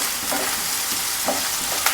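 Roughly chopped onions frying in a pan with salt for a chicken liver pepper fry hiss in a steady, close sizzle, with a few soft stirring scrapes over the brief stretch.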